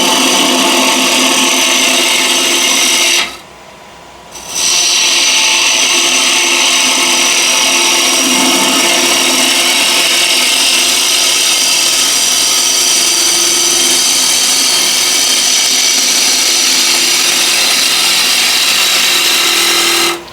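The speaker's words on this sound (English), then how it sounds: "Now I have a chunk of maple in the screw chuck, and first what I'm going to do is just make a nice push cut." A skew chisel makes a push cut on a chunk of maple held in a lathe screw chuck, producing a loud, continuous whirring scrape that breaks off for about a second before resuming steadily to the end.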